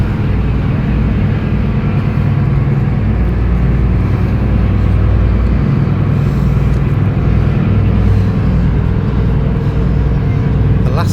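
Car driving onto a ferry in Albania or Montenegro, heard as a heavy continuous low rumble of engines and hull, loud and steady throughout.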